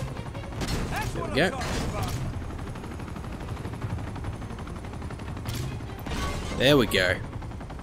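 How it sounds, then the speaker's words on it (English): Bursts of gunfire in the Uncharted 2 video game, scattered shots and mechanical clatter under a voice talking over the action. "I'm just firing for no reason. God, I just wasted so many bullets."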